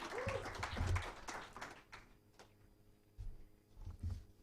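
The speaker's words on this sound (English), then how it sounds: "ladies and gentlemen, will you clap better" Applause from the audience at an awards ceremony and report launch comes in scattered bursts of clapping, fairly close, rising and falling over a few seconds with quieter gaps between.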